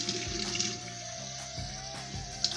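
Rosehips rinsed under running tap water in a kitchen sink, giving a steady splashing stream with soft rhythmic thumps and no speech.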